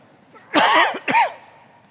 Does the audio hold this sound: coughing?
yes